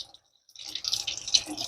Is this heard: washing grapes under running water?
yes